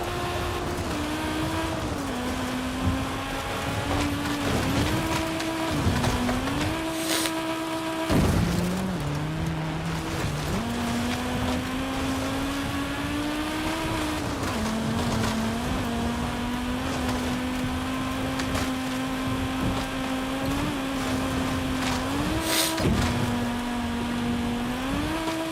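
Audi five-cylinder turbo engine in the racing game Forza Horizon 5, a continuous droning growl that rises and dips with shifts and throttle changes, steady and prominent with no talk.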